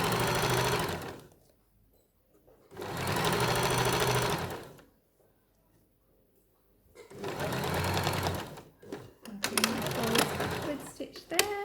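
Domestic sewing machine stitching pyjama fabric in two bursts of steady, rapid mechanical chatter separated by quiet pauses, then a further run of stitching; it is loud and close, and a voice speaks in the gaps.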